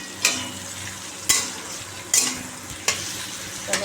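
Teasel gourd (kakrol) frying in a pan, with a low steady sizzle broken by five sharp scrapes of a spatula stirring at roughly one-second intervals, close and alone without talk.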